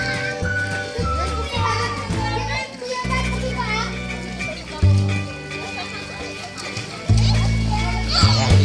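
Children shout and play in a swimming pool at a team retreat resort, with busy overlapping kid voices, splashes and water sloshing heard nearby throughout.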